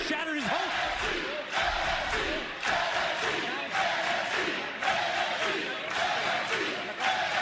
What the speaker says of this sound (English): All the crowd wild for NXT.